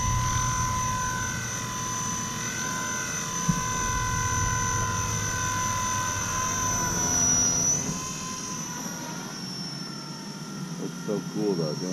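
A Blade 230 RC helicopter flying nearby, its rotor and motor whine holding steady then shifting pitch and fading as it drops into an autorotation on a dead battery, with people talking over it.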